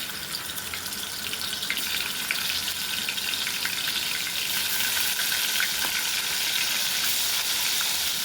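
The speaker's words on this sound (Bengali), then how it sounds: "মাছটা ভেজে নেব।" Koi (climbing fish) rubbed with salt and turmeric fries in hot oil, giving a loud, continuous crackling sizzle that stays steady throughout with no talking.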